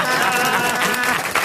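A studio audience at a radio comedy show applauds in a steady, dense wash of clapping, fairly loud and continuous for about a second and a half.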